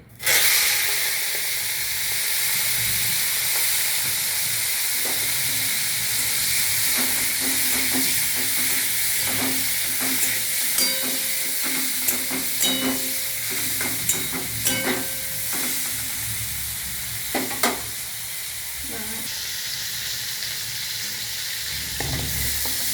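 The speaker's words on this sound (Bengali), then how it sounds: "এবার চিংড়ি মাছগুলো নুন হলুদ মাখানো আছে, সেইগুলো এবার একটু ভেজে নেব অল্প করে" Prawns rubbed with salt and turmeric fry in white oil in a wok, a loud, dense sizzle that runs unbroken, with clattering stirs and utensil knocks growing busier in the second half.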